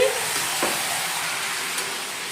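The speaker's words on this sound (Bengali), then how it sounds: "আর এই যে মাংসটা এই যে কষাচ্ছি, মাংসটা এই যে বসিয়ে দিয়েছি" Meat being sautéed (kosha) in a pan gives a steady, fairly soft sizzle with a faint crackle, continuing evenly throughout.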